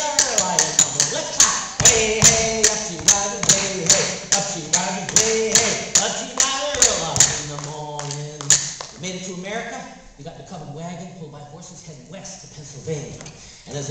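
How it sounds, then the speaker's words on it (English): A festival audience claps along to a sea shanty, with steady, evenly spaced claps for most of the stretch under a voice, then the clapping fades while the singing continues. "let's clap"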